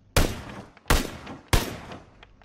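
Three sharp, loud gunshots ring out one after another in PUBG on the Erangel map, about 0.7 seconds apart, each trailing a short echoing decay, with no speech.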